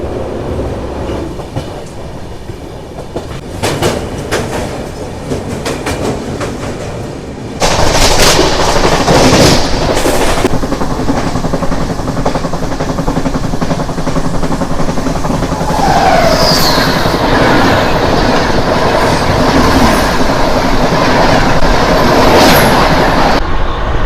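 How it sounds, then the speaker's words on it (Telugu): The Tamil Nadu Express (12622) runs through a 497-metre tunnel, a loud, enclosed roar of rails and wheels that jumps sharply in level partway through, with rhythmic clattering and sharp bangs over the continuous rumble. "మన ట్రైన్ వచ్చేసి ఇంకో టన్నెల్లో ఒకైతే ఎంటర్ అయింది."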